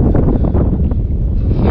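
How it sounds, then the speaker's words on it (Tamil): Strong wind buffets the microphone at a waterfall viewpoint near Hebbe Falls in Chikmagalur, a loud, constant low rumble filling the short stretch with no voice heard. "காற்று ஓவராக இருக்கு."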